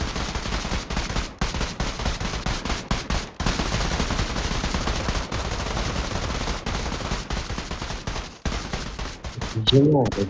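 Long bursts of automatic gunfire in a role-play video game hostage-taking scene rattle almost continuously, loud and close, with brief gaps between volleys and voices talking over the shooting.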